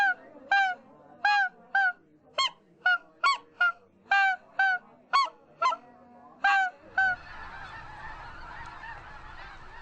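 A person imitates a snow goose call at a snow goose festival, producing a dozen sharp, nasal honks in an uneven rhythm up close, followed by a softer, broad noisy murmur.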